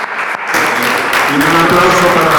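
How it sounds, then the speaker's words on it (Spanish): An audience at a conference round-table debate breaks into loud applause after a short quiet opening, and voices carry over the clapping. "Pues un aplauso para los del grupo"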